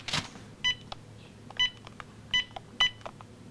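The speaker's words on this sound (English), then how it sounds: "Aw yeah, I'll be making this phone call." Telephone keypad dialing tones while calling a hotline: four short, separate beeps spaced about a second apart, with faint clicks between them and no voices.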